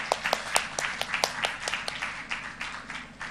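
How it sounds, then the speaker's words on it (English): An audience at an international health conference claps in a brief round of applause, with scattered distinct hand claps that thin out toward the end. "Please give a huge round of applause to such a spectacular jury."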